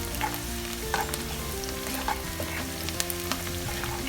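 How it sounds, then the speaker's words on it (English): Onions sizzling and crackling in hot oil for Nigerian party jollof rice, a steady busy frying hiss with scattered pops and a constant low hum underneath. "So yes, the onion is still frying"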